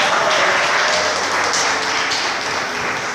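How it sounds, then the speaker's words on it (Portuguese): A church congregation claps loudly and continuously during a Pentecostal service, a dense even roar of many hands with no clear individual beat and almost no talk. "Eu creio que as palmas podem ser um pouco mais unidas,"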